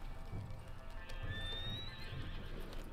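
A horse in the video game Red Dead Online trots and gallops with quick, rhythmic hoofbeats close by, and a single neigh rises partway through, with no talk over it.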